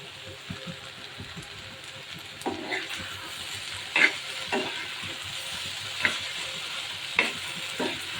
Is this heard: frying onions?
yes